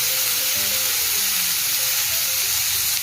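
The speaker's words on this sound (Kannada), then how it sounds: "ಈಗ ಹೀರಿಕಾಯನ್ನು ಸರಿಯಾಗಿ ಹುರ್ಕೊಳ್ಬೇಕು" Ridge gourd frying in oil in a kadai makes a continuous hissing sizzle, close and steady, with a faint low hum beneath and no talking.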